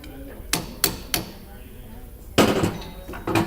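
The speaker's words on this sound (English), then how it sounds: "we're going to hammer it on." Sharp metallic hammer blows tap a washer onto a car's inner tie rod during a tie-rod replacement, three spaced strikes followed by a louder cluster of hits, close and clear.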